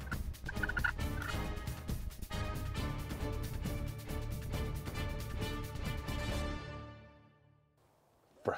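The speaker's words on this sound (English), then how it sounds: "late season means very well educated and call shy gobblers" Wild late-season turkey gobbler gobbling loudly and close, a rapid rattling gobble repeated in bursts, then fading to quiet near the end before a brief sharp sound.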